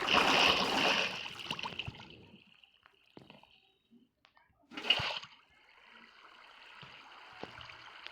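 Water splashes in a video game in two bursts, one at the start and another midway, with quieter sloshing and rushing water in between.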